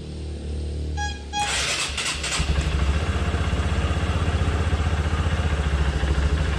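A Honda CRF150L motorcycle, just after a timing chain replacement, starts with a short cranking clatter and settles into a steady, loud, close idle with an even rapid thump.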